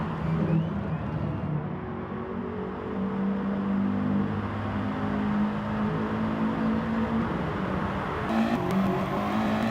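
Audi TT race cars in a racing video game lap the Catalunya GP circuit, their engines droning and shifting pitch as they accelerate and pass, with a steady loud layered roar.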